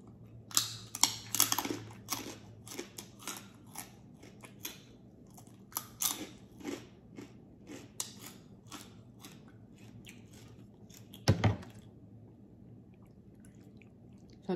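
Crunchy chewing of green papaya salad with crisp pork skin, close and irregular, with bursts of crackly bites clustered early and a sharp crunch near the end, no talking.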